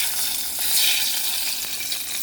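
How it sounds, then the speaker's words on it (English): Very hot oil poured over tomatoes and eggplant hisses into a loud, steady broadband sizzle that rises briefly and keeps crackling close by, with no talk. "See that sizzle?"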